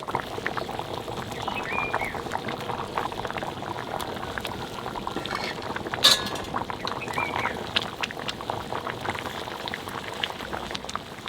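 Water boils in a pan for a Bengali potol chingri (pointed gourd and prawn) curry, a continuous close bubbling and popping simmer with one sharper pop partway through.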